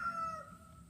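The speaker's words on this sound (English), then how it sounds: "Just a rooster." A faint rooster crow rises and trails off in the distance, brief and soft over low background noise.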